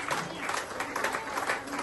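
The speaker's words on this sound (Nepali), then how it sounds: "जोरदार तालीले स्वागत गरिदिनु होला उहाँलाई पनि" An audience applauds to welcome a speaker to the stage at a leadership fellowship event in Kathmandu, with dense, steady clapping from a crowd throughout the short burst.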